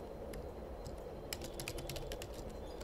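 Computer keyboard typing while working in Microsoft Excel, a quiet, irregular run of soft key clicks that grows busier toward the end, with no talk.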